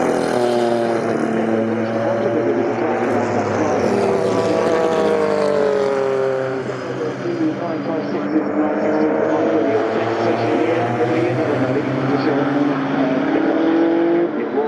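Porsche 956 and 962 race cars roar past at Goodwood, a loud sustained engine drone whose pitch sweeps and shifts as they accelerate, with a commentator's voice running over it.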